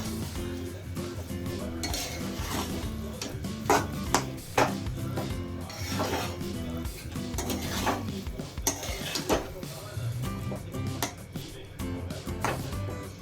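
Boiled egg masala mixture being stirred in a pan, with a steady run of metal spoon scrapes and clinks against the pan over a low background hum, including a few sharper knocks.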